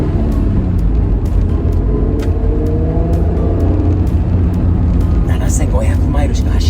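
A 1991 Honda NSX with only 7,500 miles drives onto a highway, its engine and road noise rumbling steadily and loud throughout, with people talking over it.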